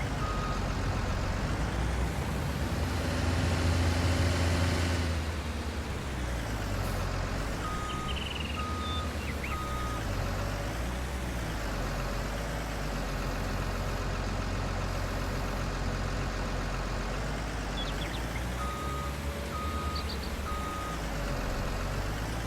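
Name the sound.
wheel loader reversing in video game Farming Simulator 19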